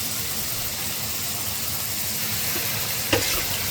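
Large pieces of chicken fry in a pan with homemade spices, giving a continuous, loud, even sizzle with one brief clink near the end; no talking.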